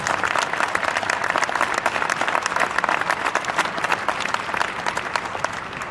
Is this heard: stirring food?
no